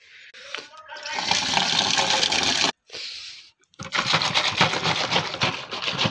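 Water sloshing as towels are soaked in detergent in a bucket, a loud splashing wash that stops briefly and then resumes. Someone talks throughout.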